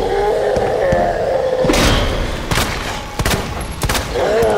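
Video game gunfire in Resident Evil 2 Remake, with several loud, sharp shots and thuds spread unevenly over a rumbling game soundscape.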